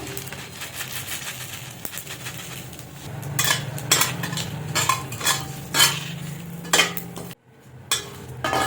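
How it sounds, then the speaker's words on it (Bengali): Bay leaf, dried red chilies and whole cumin fry in oil in a wok, a steady low sizzle with clinking and scraping stirring strokes up close, briefly cut to silence near the end. "কড়াইতে তেল দিয়ে এই যে তেজপাতা দিয়ে দিলাম আর শুকনো লঙ্কা দিয়ে দিলাম, আর দেব গোটা জিরে"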